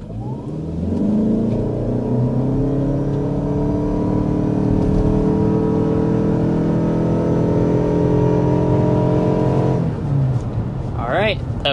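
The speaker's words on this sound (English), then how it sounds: "So when you get off the line, it has that nice sensation of acceleration." A 2025 Mazda CX-50 Hybrid accelerates hard from a stop, its engine and electric drone rising steadily in pitch for about ten seconds before easing off, loud and close from inside the cabin with a voice over it.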